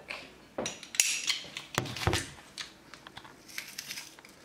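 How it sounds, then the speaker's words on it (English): A few sharp metallic clicks and scrapes, close up and quiet, of a garlic press squeezing a garlic clove, with short pauses between. "into that, I'm going to press a clove of garlic."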